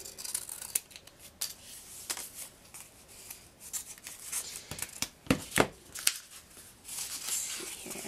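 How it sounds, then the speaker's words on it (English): Scissors snipping the ends off a craft paint strip, a run of close, soft cuts in an irregular rhythm with paper rustling between. "I do want to sort of cut off the ends though."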